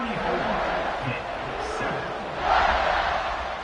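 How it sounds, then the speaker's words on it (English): A crowd buzzes steadily through a college football video game matchup between Kansas State and Pittsburgh after a score, with a dense, continuous roar that swells slightly near the end under a commentator's voice. "this crowd is buzzing after that last score"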